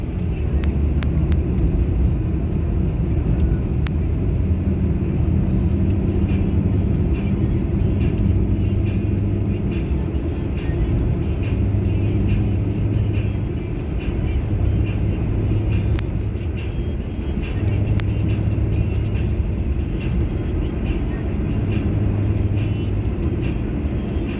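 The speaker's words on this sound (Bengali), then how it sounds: "সো আমার গাড়ি এখন আসছে প্রায় 80-তে" A car cruising at about 80 on a road, a steady low engine and road rumble throughout with faint intermittent tones on top and a voice talking over it.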